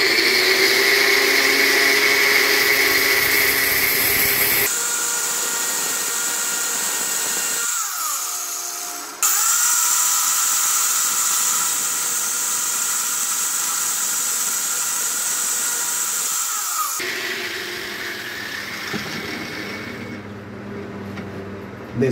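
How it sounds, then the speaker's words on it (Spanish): Angle grinder cutting a metal washer clamped in a bench vise, a loud continuous high-pitched whine with shifting pitch and gritty grinding as the disc bites and eases off, running without pause throughout. "Y vamos a utilizar la moladora o pulidora."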